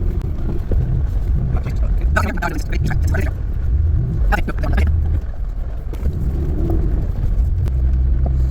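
Jeeps rolling out of the desert toward a main road after a rescue and recovery, giving a steady low engine rumble close by, with people talking over it throughout.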